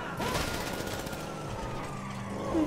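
Gunfire in the video game GTA 5, a dense burst of rapid shots continuing for a few seconds amid engine and siren-like game noise, with no speech over it.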